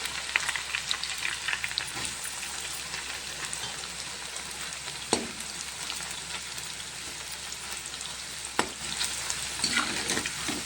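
Bitter gourd frying in a pan gives a continuous close sizzle, like light rain, with occasional soft stirring scrapes and a couple of sharper knocks of the spoon against the pan.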